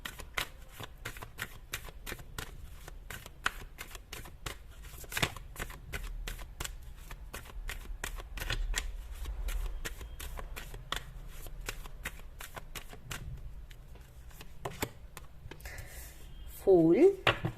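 Tarot cards are shuffled close and quiet, a long run of crisp riffling flicks in a steady rhythm, ending with a brief voice.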